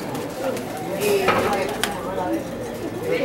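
Young pigeons cooing at a Spanish pigeon training loft, soft low coos scattered among background clatter and room noise, with people talking nearby.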